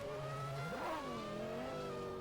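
A Formula 1 car at the Japanese Grand Prix spins out on track, its engine note rising and bending through a sharp whine before settling into a steady high drone, loud and close, with no voices.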